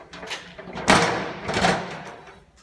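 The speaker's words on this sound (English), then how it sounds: "We will put our steps back up." Metal entry steps on a 2018 Wildwood 32BHI travel trailer folded back up after a weekend of camping, a couple of nearby clattering scrapes and thumps over about two seconds, with no talking.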